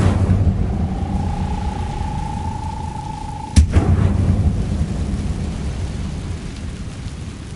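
An Incendio fire spell cast in a Hogwarts video game: a low ambient rumble and a held tone give way midway to a single sharp, loud burst, after which the rumbling bed continues.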